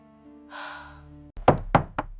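Three sharp knocks on a door ring out in quick succession at night, loud and close, following a low sustained tone that cuts off abruptly just before them.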